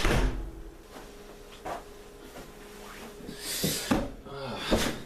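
A door at a temple opens or closes with a few sharp knocks and thuds, close by and moderately loud, amid quiet room noise.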